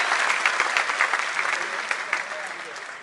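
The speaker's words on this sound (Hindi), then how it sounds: "तालियां बजाइए, लोग मिलके बजाइए" Audience at a comedy show at IIT Delhi applauding steadily, a dense continuous wash of many hands clapping that fades slightly toward the end, with no words spoken.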